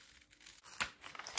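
Scissors snip through blouse fabric at close range in quick, soft cuts, with a short crinkly burst near the middle and another right at the end.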